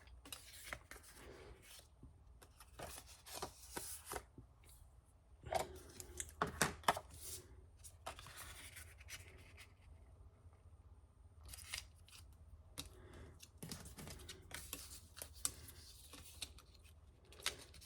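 Small sheets of printable paper for a mini floral notebook are folded in half and creased, giving soft close rustles and crisp scraping swipes with short gaps, quiet throughout.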